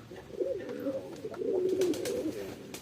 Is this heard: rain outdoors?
no